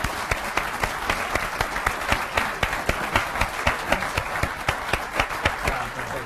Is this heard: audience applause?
yes